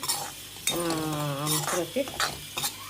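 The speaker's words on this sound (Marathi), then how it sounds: "जरा सोजी तुपात भाजून घेतली की छान वाटते." A spoon clinks and scrapes against a pan as semolina roasts in ghee, a low sizzle underneath, with a brief hummed tone in the middle.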